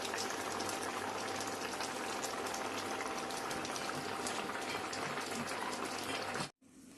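Egg curry simmering in a pan, made with red chilli powder, gives a steady bubbling hiss that stays even and close for several seconds, then stops abruptly.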